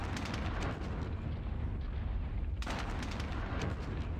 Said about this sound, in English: But let's change to heavy explosives. Let's fire at this squad here.